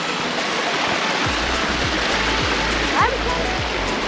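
River water flows near its spring in Slovakia, making a constant broadband rush close by, and people talk faintly beneath it.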